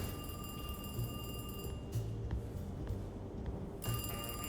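A telephone rings with repeated bell-like trills in the Alone in the Dark video game, faint and steady beneath a low ambient hum.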